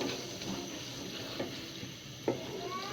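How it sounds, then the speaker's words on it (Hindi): Masala and peas for a matar chicken curry fry steadily in a pan, a soft continuous sizzle broken by a few faint stirring scrapes, heard alone with no talk. "इसको अच्छी तरीके से आपने भूनना है"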